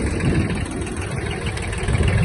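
Kubota XB-1 mini tractor engine idling steadily with the gear disengaged and brake set, a continuous low, even rumble close by with no voices.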